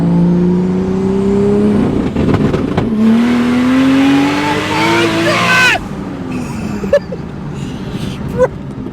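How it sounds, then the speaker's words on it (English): 1000-horsepower street car making an anti-lag acceleration pull, engine note climbing steadily through gears with sharp shifts and crackles, loud from inside the cabin, then the engine dropping off as a voice exclaims. "Let's do a proper anti-lag pull."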